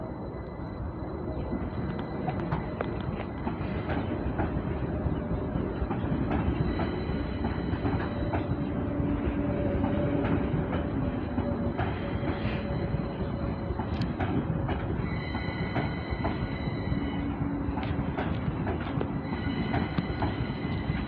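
A train rolls past continuously at Northumberland Park station, its heavy rumble joined by high metallic squeals from the wheels that rise and fade several times.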